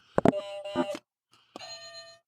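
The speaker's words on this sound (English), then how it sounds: "Mark, put the buzzers down" Game show buzzers are pressed in a few quick bursts, bright electronic ding-like tones ringing close and clear, with a short gap of silence before a final sustained buzz.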